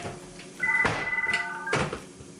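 A telephone trills once with a short electronic ring, heard over low room noise with a couple of sharp knocks or bumps around it.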